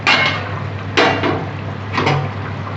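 A metal lid set down on a cooking pot of papaya and egg curry on the stove, giving a few close clanks and rattles spaced about a second apart over a steady low hum.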